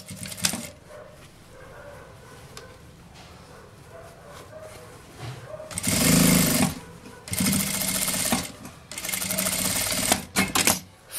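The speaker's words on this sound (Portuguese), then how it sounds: "e aqui eu vou fazer a primeira costura," A sewing machine stitches a small accordion-style fabric bag, running in three loud whirring bursts of a second or two each after a quieter stretch of handling.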